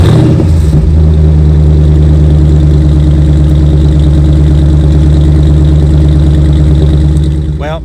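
A 2017 Jeep Grand Cherokee SRT with a big Hemi V8 idles steadily and loudly up close, a deep continuous rumble that stays even before easing slightly at the end.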